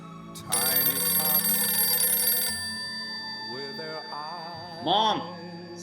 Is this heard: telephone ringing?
yes